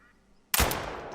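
A single sharp shotgun-like blast fired at a grouse in a Scotland hunting video game, a sudden loud crack with a lingering booming tail after a quiet lead-in.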